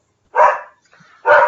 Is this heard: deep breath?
no